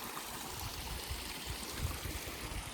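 Mountain spring water flows steadily straight out of the ground at a high meadow, a continuous close trickling and gurgling stream with no voices.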